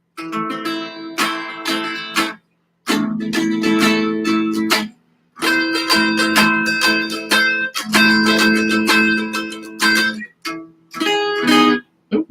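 Guitar strumming inside chords, ringing close and loud in rhythmic bursts with short pauses between phrases, no talking.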